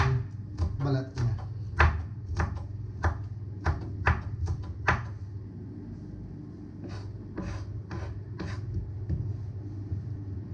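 A knife slices through unpeeled ginger on a cutting board, about a dozen crisp chops spaced irregularly over a low background rumble, with a pause in the middle before a few more cuts.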